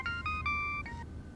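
Phone ringtone for an incoming call, a bright electronic melody of several short sustained tones playing alone for about a second before stopping.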